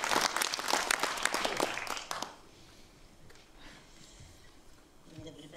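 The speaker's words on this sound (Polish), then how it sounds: "Wielkie brawa!" Audience applause at a lecture greets a professor, a dense burst of clapping for about two seconds that quickly fades to quiet room murmur.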